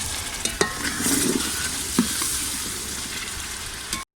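Chicken with yogurt sizzles and fries in a pot for a pulao while being stirred, with scraping knocks of the spoon breaking through a steady close hiss.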